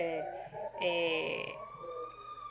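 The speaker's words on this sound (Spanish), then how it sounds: "vimos por ahí una sirena" A siren wails in wavering, rising and falling tones at moderate distance during a broadcast political talk show, with voices speaking alongside it.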